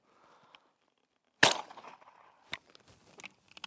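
A single sharp shotgun report from a soft 5/8 ounce mini shell, fired at a clay target, followed by a few faint clicks and small knocks.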